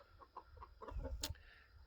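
Hens in a backyard flock give a handful of quiet, close clucks and short calls, with one sharper squawk in the middle against a soft background.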